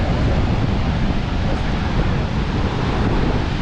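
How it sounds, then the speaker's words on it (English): Strong wind gusts at Niagara Falls, with mist and raincoats flapping, make a constant loud roaring rush that buffets the microphone throughout, with no clear voices. "Look at all the wind."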